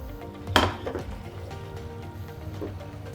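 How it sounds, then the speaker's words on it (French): A washed frying pan is set on the stove to be heated dry until nearly smoking, ready for browning poultry. There is one close, sharp metallic clank, then a low kitchen rustle, with no talking. "J'ai fini de laver ma poêle, je vais pouvoir la mettre à chauffer à blanc"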